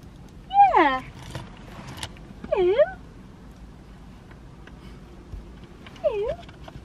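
Dogs whimpering inside a car: three separate high, wavering whines, each about a second long, with pauses between them over a quiet cabin hum.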